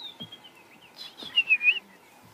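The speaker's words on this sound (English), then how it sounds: "Larks." Larks sing in a dawn chorus on a sunrise safari drive, giving faint, thin whistled phrases and chirps, a few sharper trills standing out briefly against quiet surroundings.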